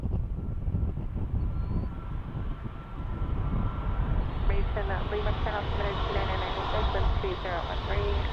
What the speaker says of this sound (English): We have a United 787-9 coming in the touchdown on the 28s.